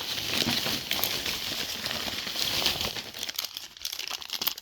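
Paper envelope being handled and crinkled up close, a steady rustle that thins into scattered crackles near the end, with no talk.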